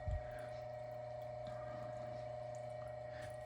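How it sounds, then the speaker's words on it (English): Water running into a toilet tank after a plumbing leak repair, a steady close hiss with a constant pump-like hum underneath and a brief knock at the start, no talk. "water coming in to fill the tank up"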